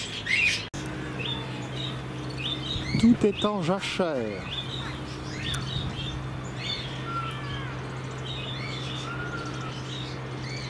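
Caged birds in a winter botanical garden in Rouen chirp and tweet in short, scattered calls at moderate distance, alongside a steady low hum, with a person speaking briefly over them.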